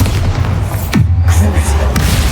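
A Bombarda spell explosion in Hogwarts Legacy lands as a loud, booming blast with a low rumbling tail, layered over constant game noise, with a second sharp hit near the end.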